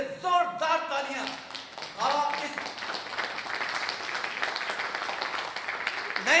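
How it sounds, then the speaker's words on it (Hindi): Audience at an alumni gathering breaks into loud, sustained applause that swells after a voice and continues steadily under his ongoing speech. "एक बार अपने खुद के लिए जोरदार तालियां"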